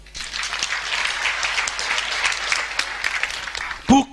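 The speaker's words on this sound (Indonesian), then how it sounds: "Tepuk tangan dulu." Congregation at a church sermon applauding steadily for about four seconds, a dense even patter of many hands clapping that ends abruptly as a voice comes back in.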